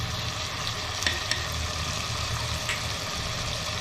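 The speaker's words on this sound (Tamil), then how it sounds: "சிக்கன் நல்லா வதங்கி வரட்டும்." Chicken sautéing with chili powder in a clay pot for a country chicken curry: a steady, close sizzle with a few soft stirring clicks and no talking.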